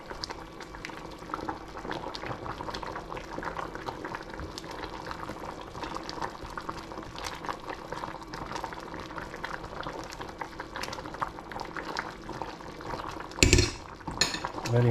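Hungarian mushroom soup boils steadily in a pot on an induction hob, a dense continuous bubbling and simmering that runs throughout, closing with a brief clatter of a utensil or lid.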